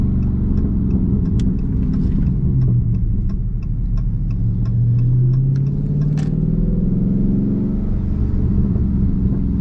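A Dodge Charger Daytona 392 drives in paddle-shift mode, its engine a loud, steady rumble that climbs in pitch and settles as gears change, with faint ticking on top and no voices.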